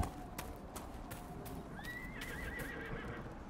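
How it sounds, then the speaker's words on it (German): Horses neigh in the fantasy role-playing game Dragon Age Inquisition, one clear whinny rising and trailing off over a steady background of faint in-game ambience and clip-clop. "Da haben wir ein paar Pferde."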